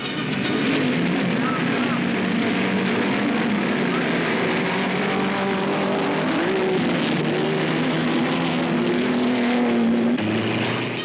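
Grand Prix racing cars including Cooper and Ferrari, with BRM and Aston Martin entries, roar off the start of a race in the 1945-1965 era, a loud continuous wall of engine noise with rising and overlapping engine notes.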